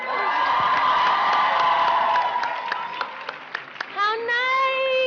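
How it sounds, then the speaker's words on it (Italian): Cheering and applause from a festival audience at the Giffoni Experience Award 2014 ceremony, loud and sustained. It fades toward the end while a voice rises over it. "E vai con l'applauso."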